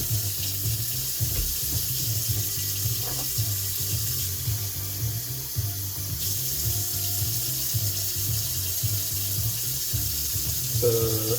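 Cold water runs steadily from a kitchen tap into a measuring cup, a continuous close splashing stream with a slight shift in tone near the end as the cup fills.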